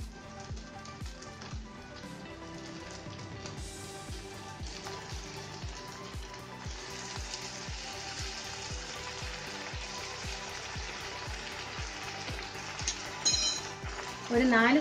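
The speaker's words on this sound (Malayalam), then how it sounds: "നമുക്ക് ഇനി ഇതിനകത്തേക്ക് വിനാഗിരി ഒഴിച്ചു കൊടുക്കാം" Vinegar goes into hot, boiling lemon pickle in a pan, raising a constant loud sizzle and hiss. Rhythmic stirring strokes continue underneath, and a few metallic clinks and a louder clatter come near the end.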